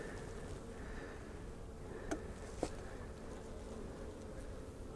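Honey bees in a winter hive fed with sugar cakes give a low, steady, faint hum, with a couple of brief sharp ticks partway through.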